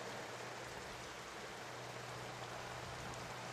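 Rain falls in a soft, steady wash over a war-film battleground, faint and continuous, with a low hum under it and no talk.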